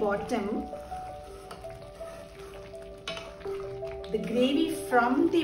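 Potato gravy for baby potatoes bubbles and sizzles steadily in a pan, a soft crackling hiss running throughout beneath a voice talking and faint background tones.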